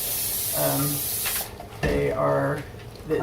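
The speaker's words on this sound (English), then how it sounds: "If you're making it in a pan like this, then you probably need to spray it." A loud, steady hiss of cooking spray into a pan fills the first half, then stops; voices talk briefly before and after it.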